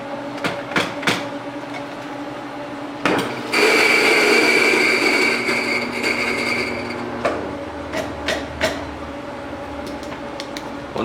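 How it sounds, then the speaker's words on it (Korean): An EK43S coffee grinder set to grind size 10.2 grinds coffee beans for hand-drip brewing. A loud, steady whirring burst lasts about four seconds, with scattered clicks and knocks close by before and after. "원두는 다른 거 준비하기 전에 살짝 미리 갈아 넣는 편이에요"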